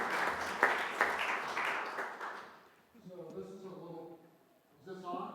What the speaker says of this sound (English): let's give a round of applause and a thank you to